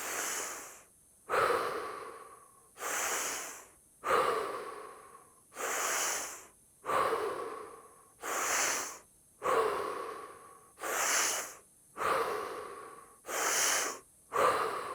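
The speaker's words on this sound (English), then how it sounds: "As you notice, I'm breathing in through the mouth. I'm getting a little bit more oxygen into the body as I breathe." Deep rhythmic breaths drawn in through the mouth and let go, Wim Hof method style, about ten full cycles in steady succession, close and fairly loud with no talking.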